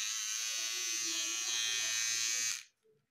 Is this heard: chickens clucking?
no